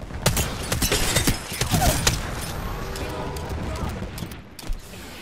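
Rapid bursts of gunfire in the Apex Legends battle royale game, dense clattering shots close by and fading slightly toward the end, with mechanical clicks mixed in.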